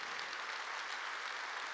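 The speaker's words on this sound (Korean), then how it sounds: "하나님께 박수 칩시다." A church congregation applauds during a worship service, a soft, continuous wash of many hands clapping that sounds quiet and distant.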